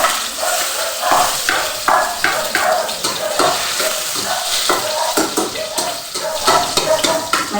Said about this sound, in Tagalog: magigisa na ako ng mga panakot